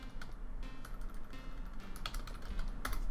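Close, brisk computer keyboard typing of a folder name, rapid light key clicks in an uneven run with a few sharper taps, no speech.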